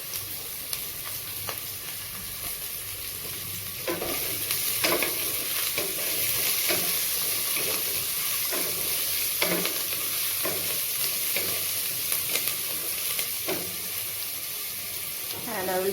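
Onions fry in a pan with a steady, close sizzle while a utensil stirs and scrapes at irregular intervals, loud throughout the whole stretch.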